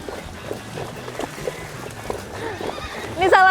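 A horse splashing near water gives a sudden loud neigh at the end, after soft clopping and faint splashes, with people talking quietly in the background.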